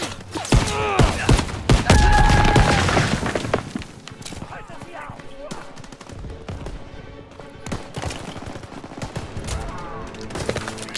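Machine gun fire and explosions in a Call of Duty WWII battle, a dense loud burst of shots and blasts in the first few seconds, then scattered thuds and rattling under shouted talk.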